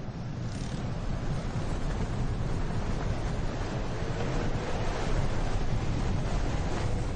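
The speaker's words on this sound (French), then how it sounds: "Le vent souffle vraiment trop fort." Strong wind blows across the seaside at Essaouira, a continuous loud roar and buffeting against the microphone with surf mixed underneath, no voices.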